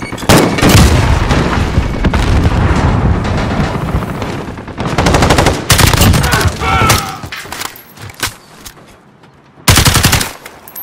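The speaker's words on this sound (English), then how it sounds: "Sentry gun is active." A sentry gun fires in Call of Duty: Modern Warfare multiplayer, loud, rapid and dense, in sustained strings with brief gaps and a last sharp volley near the end.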